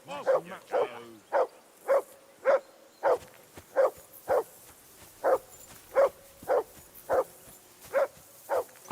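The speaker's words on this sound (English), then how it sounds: "I assume you can hear that damn dog of yours barking." A dog in Kingdom Come Deliverance 2 barks repeatedly at a steady rhythm, about a dozen sharp mid-distance barks spaced under a second apart, over a quiet outdoor backdrop.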